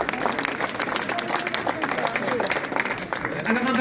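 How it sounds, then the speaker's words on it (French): Crowd applause at a cultural ceremony in Brussels honouring a giant figure, a dense sustained clapping wash that fills the whole moment, with voices mixed into the crowd. "Merci à vous aussi, et on les applaudit aussi."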